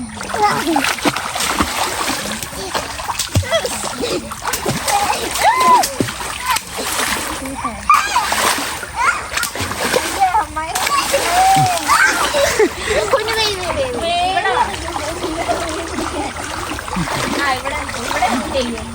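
People swimming in a river in Ernakulam, Kerala, splashing continuously with steady watery sloshes and splatters close by, while adults and children talk and call out over the water throughout.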